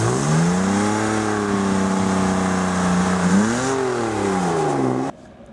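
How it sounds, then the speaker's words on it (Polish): A rear-wheel-drive car holds a loud, steady engine rev in a standing burnout, the pitch dipping and climbing again before cutting off abruptly near the end, with no voices. "po prostu odpuszczamy hamulec, wtedy auto nam rusza i jedziemy dalej"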